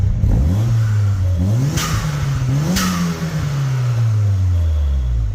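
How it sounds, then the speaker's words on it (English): A Toyota MR2 engine revs up and down several times, its exhaust note climbing and falling with a throaty growl, close and loud, plus a couple of sharp crackles. "Now let's hear that exhaust."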